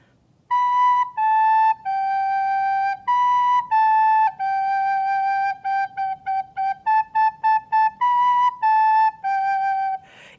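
Close and clear, a soprano recorder is blown with warm, slow air, giving steady, soft-edged notes. They form a melodic run of held tones, then quicker repeated notes, with no talking.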